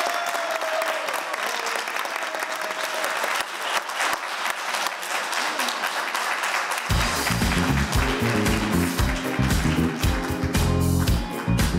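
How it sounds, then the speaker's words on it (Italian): Loud, dense audience applause for a 17-member youth choir on a variety show stage, a steady wash of many hands clapping that continues as music kicks in halfway through. "Un grande applauso!"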